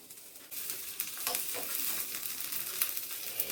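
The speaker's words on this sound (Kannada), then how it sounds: "ಬಾಣಲೆ ಇಟ್ಟು ಒಂದು ಚಮಚ ಎಣ್ಣೆ ಹಾಕಿದೆ. ಇದಕ್ಕೆ ನಾನೀಗ ಬೆಳ್ಳುಳ್ಳಿ ಹಾಕ್ತಾ ಇದ್ದೀನಿ" Steady hissing sizzle of garlic frying in a spoonful of hot oil in a pan, fairly quiet and continuous with occasional crackles and stirring scrapes.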